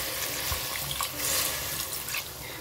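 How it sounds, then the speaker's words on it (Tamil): Water poured into a pan of mutton cooking in ghee, a continuous close splashing pour that hisses and bubbles steadily for a couple of seconds with no voices. "கொஞ்சமா தண்ணி சேர்த்துக்கலாம்."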